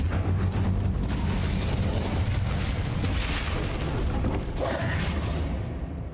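Incendio fire spell cast in the video game Hogwarts Legacy, a loud, dense roaring blast of fire that holds steady for several seconds and dips slightly at the end.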